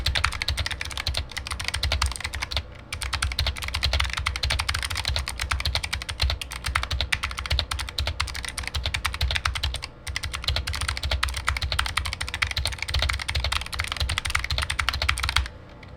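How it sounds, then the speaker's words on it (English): Rapid, steady typing on a Razer Huntsman Mini clicky keyboard during a typing test, dense close key clicks with a couple of brief pauses, loud and alone with no talking. "Let's go ahead and do a typing test now."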